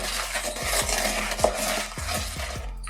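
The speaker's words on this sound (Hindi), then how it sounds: "अब बटर और पाउडर शुगर को अच्छे से मिक्स करेंगे।" Butter and powdered sugar being mixed together for a tea cake batter, a steady rhythmic stirring and scraping with regular soft knocks of the utensil against the bowl, close and alone.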